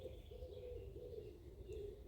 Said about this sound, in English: These are wood pigeons